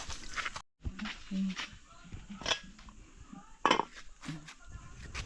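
Metal clinks and clatter of a cooking pot being covered with its lid while fish boils, faint and intermittent under nearby talking in a home kitchen.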